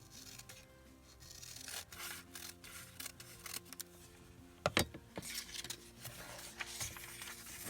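Paper scrap being trimmed down for a handmade journal, with soft rubbing and snipping sounds close by, including a sharper cut or crackle midway, and no talking.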